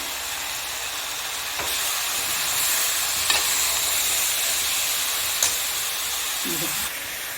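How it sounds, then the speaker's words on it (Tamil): Chicken pieces fry with softened tomato and turmeric in a pan, giving a loud, steady hissing sizzle with a few sharp stirring clicks along the way. "தக்காளி நல்லா வதங்கிருச்சு இப்போ சிக்கன் போட்டுக்கிறேன் மஞ்சத்தூள் போட்டுக்கிறேன்"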